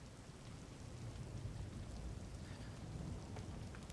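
Steady, dense rainfall hisses continuously, with a low rumbling undertone and no voices.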